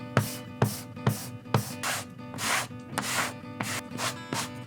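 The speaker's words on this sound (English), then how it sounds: "So when I'm sharpening, for the most part, I pretty much just use a piece of leather as a strop on the table." A steel blade drawn back and forth over a leather strop laid on a table for sharpening, giving about ten crisp, evenly paced rubbing strokes, close and alone.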